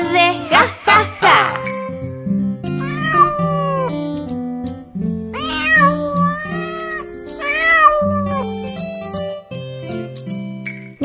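A kitten meows repeatedly in a Spanish-language children's nursery rhyme, its drawn-out rising and falling cries sitting over a bouncy musical backing with tinkling jingles and some childlike vocal sounds.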